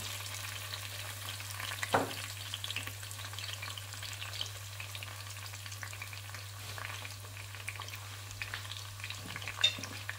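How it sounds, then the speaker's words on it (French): Onions sizzling steadily in hot oil in a pan for a Cameroonian poulet DG, a soft, even frying hiss with a few faint clicks, no voices. "L'huile, elle est déjà chaude. Maintenant, je vais incorporer mes oignons."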